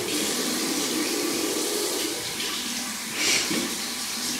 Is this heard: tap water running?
yes